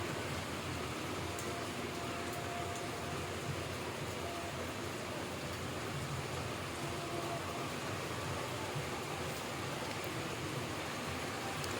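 Steady, dense hiss of heavy rain pouring down continuously, an even wash of noise with no voices over it.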